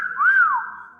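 A single close, clear whistled note rises and then falls in a smooth slide, lasting about half a second before fading out.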